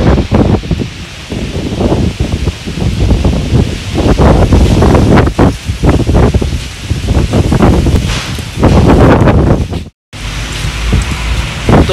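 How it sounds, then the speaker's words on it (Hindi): Strong gusting wind buffeting a handheld microphone outdoors, loud rumbling blasts that swell and ease in waves for the whole stretch, broken by one brief dropout near the end. "बहुत तेज हवा चल रही है।"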